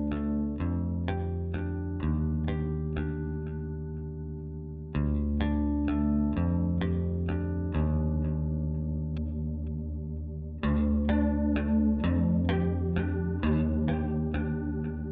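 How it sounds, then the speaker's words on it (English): A bass guitar played through a chorus pedal, picked notes and short riffs with a shimmering, doubled modulation on each sustained tone, close and clean with no talking. "Let's take a quick listen to a chorus pedal"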